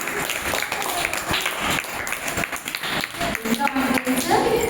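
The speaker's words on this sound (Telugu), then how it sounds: "ఒకసారి దేవుడు గట్టి క్లాప్స్ కొడదామా?" A church-style gathering of worshippers gives loud applause for God, uneven bursts of clapping mixed with voices and taps, building toward the end.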